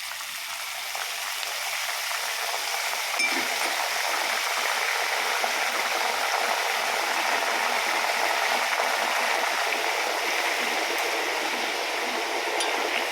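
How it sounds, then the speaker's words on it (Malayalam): A turmeric and salt mixture poured over jackfruit in a hot pan gives a steady hiss like rushing water or sizzling, moderately loud and continuous, with no talking. "മഞ്ഞളും അതുപോലെ ഉപ്പും കൂടിയിട്ടുള്ള മിശ്രിതമല്ലേ അത് നല്ലപോലെ നൂടി മിക്സ് ചെയ്തിട്ട് ഇതിൻ്റെ മുകളിലേക്ക് ഒഴിച്ചു"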